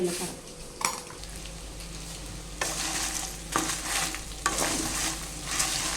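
Ginger and dried red chilies fry in a pan with a steady low sizzle, broken by several scraping stirs of a spoon against the metal and an occasional clink of utensils.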